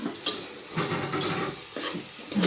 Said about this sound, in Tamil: சேர்த்து நல்லா வதக்கி விட்டுக்கலாம்